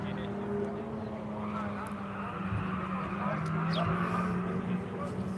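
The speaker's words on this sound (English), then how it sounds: "Comes the Goodyear Porsche" Goodyear Porsche race car running its morning session on the Grattan track, a steady engine drone with a rising pass under continuous commentary.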